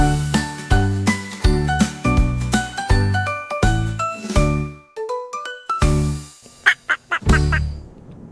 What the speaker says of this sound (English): Mama duck quacks, calls them near.